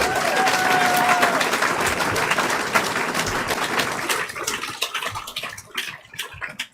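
Crowd applause at a livestreamed political rally, a dense, loud wash of clapping that starts strong and slowly thins out toward the end, with a few scattered claps left near the close.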